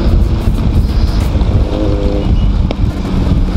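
Steady, loud rumble and wind buffeting from a motorcycle riding along an Indian road, continuous throughout with no speech.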